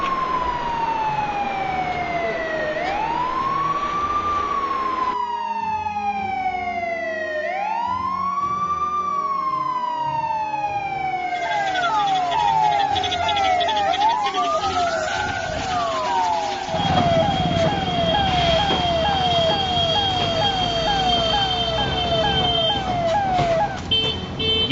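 Ambulance siren on a green corridor carrying a donor heart to a private hospital in Aminjikarai, Chennai, wailing loudly and continuously, rising and falling in long sweeps that shift into faster yelping cycles, with road traffic rumbling beneath.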